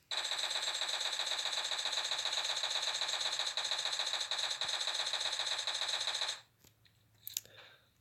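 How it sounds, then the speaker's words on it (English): A DP-28 light machine gun fires one unbroken, rapid full-auto burst in the tactical shooter Rainbow Six Siege. The fire is loud and close, runs for about six seconds and then stops dead, leaving only faint small noises. "It is a very, very powerful machine gun, capable of doing this."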